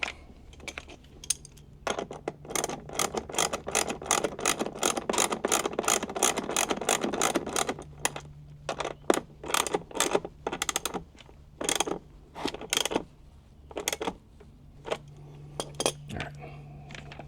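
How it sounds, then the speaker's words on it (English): Charger mounting hardware on a Casita travel trailer is tightened down with a run of quick metallic clinks and ratchet-like clicks. The clicks come in dense bursts and then spaced single ticks, close by, over a low steady hum. "Now go ahead and tighten it down."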